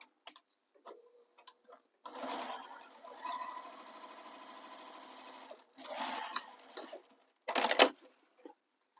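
A sewing machine runs in several bursts while stitching across the top of a Birkin-style bag: a long steady run of rapid needle clatter, then two shorter runs, close and fairly loud with no talk.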